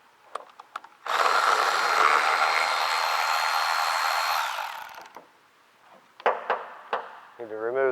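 Power tool whirring steadily for about three seconds while removing the bottom bolts of an MT82 transmission, close and moderately loud, followed by a few scattered metallic clinks and taps.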